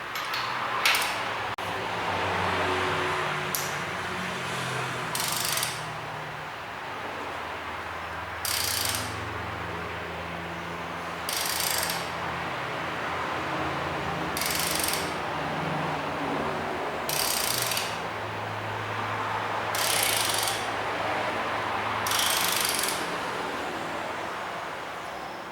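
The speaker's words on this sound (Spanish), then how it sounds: "2 vueltas del cigüeñal, una vuelta del árbol de levas y bueno, una vuelta de la bomba inyectora" A Volkswagen AP diesel engine's crankshaft is turned by hand with a ratchet, several bursts of clicking pawl sounds repeating at intervals amid low mechanical rumbling and quiet workshop noise.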